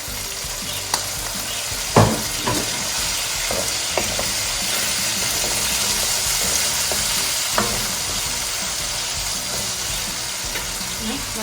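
Chicken noodles stir-fried with soy sauce in a hot pan, a steady loud sizzle throughout with a few sharp clanks of a spatula or ladle against the pan, no talking.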